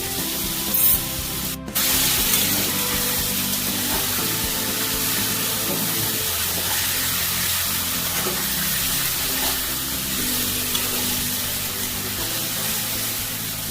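Spice-bowl rinse water hits a hot pan of mutton with chili powder, bursting into a loud, continuous spraying sizzle that stays steady and close throughout after a brief sharp clatter near the start.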